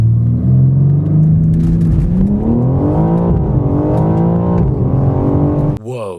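A BMW M4 Competition xDrive G82 accelerates hard, its engine roaring loudly and climbing in pitch through several gear changes before cutting off abruptly at the end.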